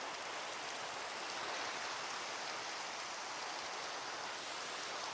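Steady broadband rain hiss in the Prison Escape video game, an even, continuous downpour filling the whole stretch with no voices.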